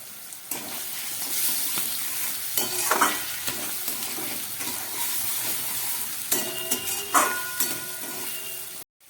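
Spice masala fries with a steady sizzle in a pan while a spoon scrapes and stirs it in bursts, close and clear with no voices, for a vegetarian jackfruit curry.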